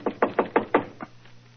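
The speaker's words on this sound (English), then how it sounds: "I will knock on the door" Knuckles rapping on a shop door, five firm, evenly spaced knocks followed by a softer sixth, close and dry with no voices.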